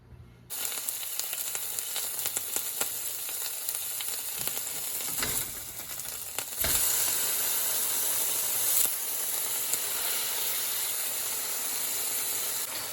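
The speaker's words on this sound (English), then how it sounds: "we got 2 pieces frying up here" Deer sausage patties sizzle steadily in a hot frying pan, a close, constant crackling hiss with a few louder pops and spatters.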